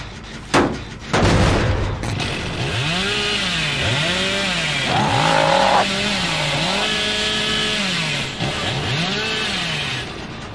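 A chainsaw in Dead by Daylight revs up in repeated rising and falling surges, loud and close, after a few sharp thuds at the start.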